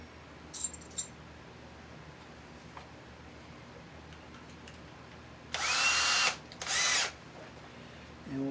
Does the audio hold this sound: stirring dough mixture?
no